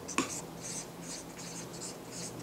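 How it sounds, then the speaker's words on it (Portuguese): Writing on a board in a classroom, a sharp tap and then repeated scratchy strokes in short bursts, close and fairly clear, with a faint voice underneath. "nós vamos escrever no quadro agora"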